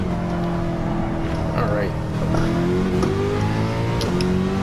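A powerful 2017 Nissan GT-R engine on racing soft tires revs hard on a track, pitch climbing repeatedly through gear changes as it accelerates, loud and close, with a voice talking over it.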